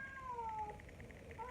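A domestic cat meows in a drawn-out, falling cry, then gives a brief second call near the end, fairly close over a low background hum during a light switch installation.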